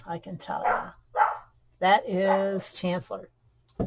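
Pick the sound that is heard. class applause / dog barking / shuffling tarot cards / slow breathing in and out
dog barking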